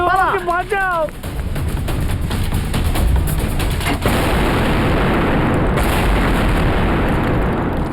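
Loud, sustained blast roar fills the clip after a brief shout, with heavy low rumble and crackling debris noise continuing throughout, in a crime drama scene of criminals escaping by speedboat.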